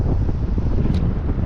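Strong evening wind buffets the microphone on Cuba's Atlantic coast during sea fishing, a constant close roar with waves rumbling underneath and no voices.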